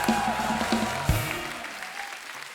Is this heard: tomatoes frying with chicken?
no